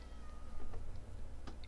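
Minecraft cats meow softly a couple of times, faint short cries set against steady low game background noise.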